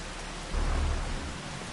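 Continuous rain with a brief low thunder rumble swelling in the middle, in the video game Farming Simulator 25.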